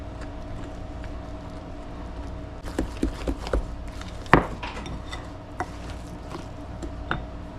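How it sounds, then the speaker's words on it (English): Melted butter being stirred into a no-bake peanut butter bar mixture in a bowl, with scattered clinks and scrapes of a utensil against the dish over a steady low background hum. "And then I'm going to mix this up thoroughly."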